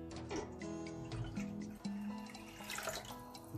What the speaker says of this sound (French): Je rajoute un demi-litre d'eau.